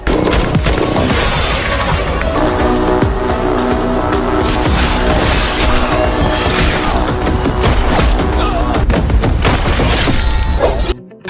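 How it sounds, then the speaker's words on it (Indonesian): Rifle gunfire in an action film comes as dense, loud, continuous bursts of shots mixed with crashes and booms, layered under a busy soundtrack that stops abruptly at the end. "dengan menggunakan senapan yang bertuliskan Johnny, Oji ngamuk sengamuk-ngamuknya"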